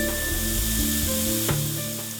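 Bacon frying in a pan, a steady close sizzle and crackle with a few stirring scrapes running throughout, no voices.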